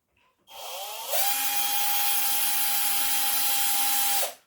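A power drill bores into wood while making a birthday calendar, spinning up and holding a steady, loud whine for about three seconds before stopping abruptly.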